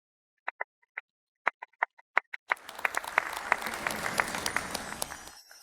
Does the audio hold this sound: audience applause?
yes